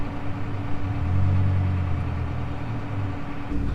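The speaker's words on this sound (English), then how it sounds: "Man, my car's loud with no muffler." Car engine running with no muffler, a loud, steady low drone with a throbbing rumble that swells briefly midway, heard alone at close range.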